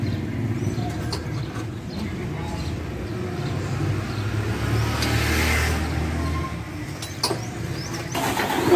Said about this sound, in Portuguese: estou ligando o caminhão para ver agora